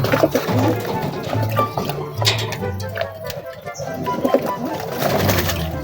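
Pigeons cooing in low repeated tones close by, with splashing and fluttering from birds bathing in water, under a steady bed of chatter and movement.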